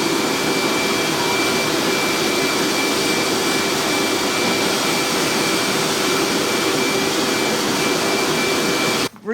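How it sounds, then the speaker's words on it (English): A dog grooming blower blasts loose hair out of a Samoyed's thick coat, a loud, steady, close-up whooshing roar that cuts off abruptly at the end. "I'm doing one last hitting him with the blower to get any loose hairs that are hanging in his coat and blow them out"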